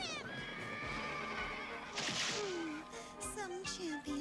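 A horse whinnies in a Transformers movie scene, a loud drawn-out neigh with a wavering pitch, heard over busy film sound and music.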